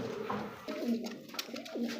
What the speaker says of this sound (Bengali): ডাকতে স্যার করতেছে দেখেন, ব্ল্যাক লেস শার্টিন কবুতর